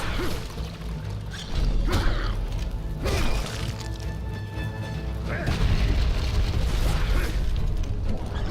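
A bomb blows up in Castlevania: Lords of Shadow, several heavy booms and crashing impacts with whooshes over a rumbling game soundtrack, loud and close.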